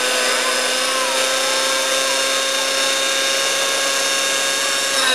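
A radio-controlled model helicopter flies at a park demonstration in Dobrich. It makes a loud, steady, high-pitched motor whine with sustained tonal hum that carries without a break, and no voices are heard.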